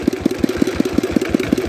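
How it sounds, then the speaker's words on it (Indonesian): A single-piston Dongfeng 16 HP diesel engine idles up close, thumping in a steady, even rhythm of about six beats per second with no talk over it. "Kali ini mesin diesel satu piston Dongfeng 16"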